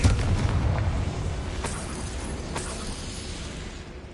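A Confringo fire spell explodes in the Hogwarts Legacy video game, giving a loud, deep boom at the start that rumbles away into a fading roar with a couple of faint crackles.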